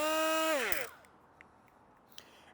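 A Milwaukee M12 angle die grinder whines with a steady high-pitched tone close by, then winds down and stops within about a second, leaving near silence.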